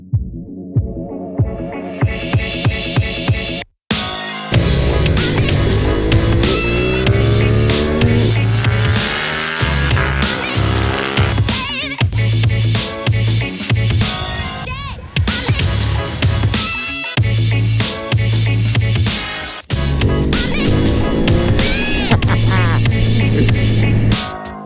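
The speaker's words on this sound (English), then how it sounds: "we're here to ride the Hypermotard 950 and the Hypermotard" A Ducati Hypermotard 950 motorcycle engine on a ride in Gran Canaria, loud and close, revving and climbing through the gears with brief drops between shifts, steady throbbing drone throughout, no talk.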